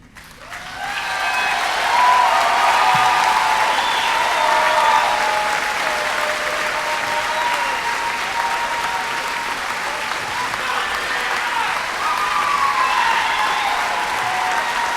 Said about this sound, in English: if we can give them a round of applause for everything they have done for our country